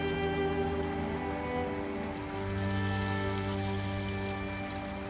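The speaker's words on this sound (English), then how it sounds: "That's the noise you hear. Is the cascading water" Water cascading over a small waterfall in a wooded creek in winter, a steady unbroken rush and splash close by, continuous for the whole stretch with no talking.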